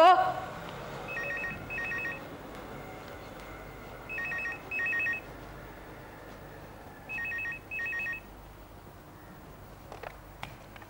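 A telephone rings in repeated paired electronic trills, about four bursts spaced roughly three seconds apart, over a quiet indoor background with faint clicks near the end.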